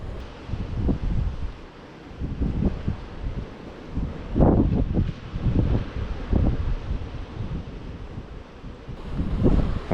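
Strong, gusty wind buffets the microphone during night squid jigging in rough, rainy weather, rumbling low in uneven surges.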